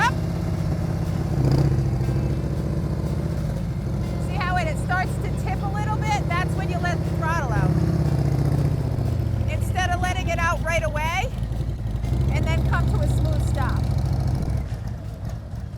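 A motorcycle rolls slowly in first gear at walking pace during a low-speed riding exercise, its low engine drone running steadily beneath repeated instructional talk.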